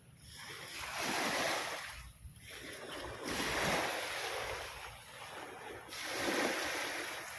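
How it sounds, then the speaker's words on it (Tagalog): Sea waves roll onto the shore in three broad surges, each swelling into a loud hiss of surf and then easing back, with wind buffeting the microphone. "Yan po yung dagat."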